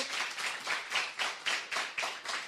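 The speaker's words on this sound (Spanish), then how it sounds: "Vamos a darle un aplauso a los que están conectándose con nuestro servicio." Applause breaks out among the congregation at a church service, a steady run of clapping with rhythmic pulses, fairly close and even in level, with no talking over it.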